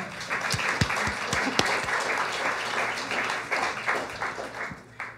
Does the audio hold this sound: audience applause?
yes